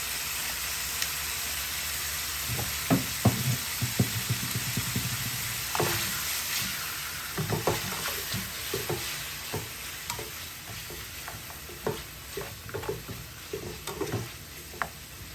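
A rice stir fry seasoned with salt and black pepper cooks in a pan, giving a steady sizzle and hiss with scattered scraping and clinking of a utensil, close and moderately loud.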